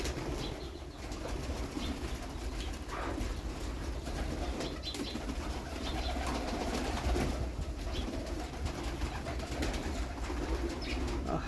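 A crowd of pigeons coos and flutters continuously, with wings flapping and soft calls layered over a busy outdoor background.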